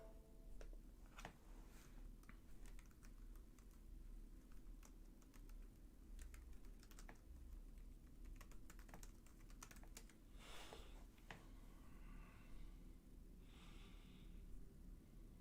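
Close, quiet typing on a computer keyboard, irregular bursts of clicky keystrokes with brief pauses, alongside faint breathing and a low background hum.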